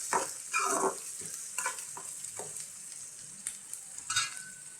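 Onions and green chillies frying in a pan make a soft sizzle, broken by a few scraping stirs that come in short bursts. The sound is close and fairly quiet, and no one speaks.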